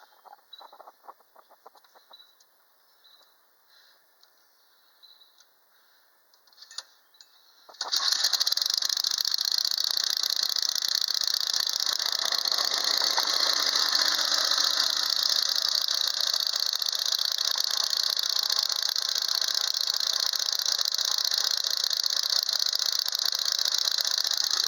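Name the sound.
1946 David Bradley tractor engine cranking and running with new belt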